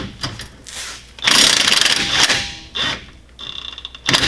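An impact wrench buzzes in short bursts, with one long rattling run, while loosening a 17mm nut on the lower section of a widebody FR-S's BC Racing coilover suspension. Tool clanks fall between the bursts.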